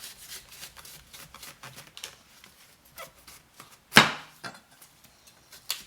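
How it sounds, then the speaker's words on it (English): A knife cuts through a watermelon, ends being trimmed off, giving a series of soft, close chopping taps and scrapes with one sharp, loud crunching cut partway through. "So let's start with getting the watermelon ready. So I cut both ends off."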